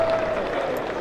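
Cricket crowd applauding a diving save in the field, a steady wash of clapping from a large stadium audience under a faint tonal hum.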